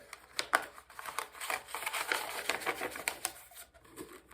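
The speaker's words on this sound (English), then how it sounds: "But this, a piece of paper, if we roll it up," Thin copy paper being rolled up by hand, a close, dry run of crinkling, rustling scrapes and small taps that comes and goes over several seconds.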